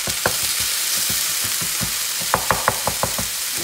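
Meat and onions sizzle loudly on a griddle for a Philly cheese steak while a metal spatula chops and scrapes through them in steady, sharp taps, with a quicker run of hits near the end.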